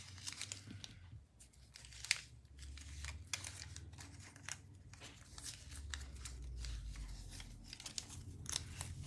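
Scissors snip through paper while a Christmas lattice card is made, sharp crisp cuts repeating steadily at close range with light paper rustling between them and no voices.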